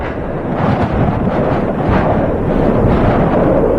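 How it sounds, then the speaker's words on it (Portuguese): Heavy blizzard wind drives snow across open ground, a loud, continuous rushing roar that swells and surges without pause, with no voices. "O vento leva os cristais de neve por sobre a terra."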